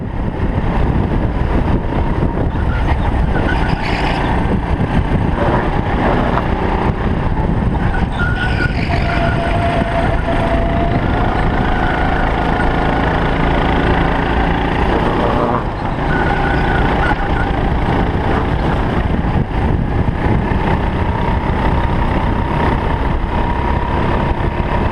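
A rental go-kart engine at the Dallas Karting Complex droning loudly and continuously on the track, a harsh buzzing roar with small shifts in pitch as the kart speeds up and slows through turns.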